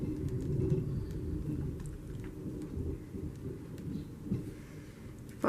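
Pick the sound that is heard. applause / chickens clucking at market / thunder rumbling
thunder rumbling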